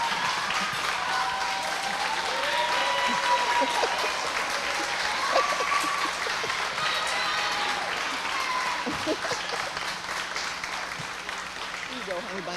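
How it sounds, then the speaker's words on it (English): A graduation audience claps in a sustained, dense wave of applause that keeps going at an even level, with faint cheers and voices mixed into the crowd noise. "I would love everyone to stand to applaud them"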